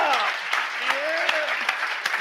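Audience applause fills a keynote event hall with steady, dense clapping throughout, overlapping a speaking voice.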